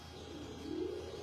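Breeder pigeons coo once, soft and low, as a short throaty call over steady background noise.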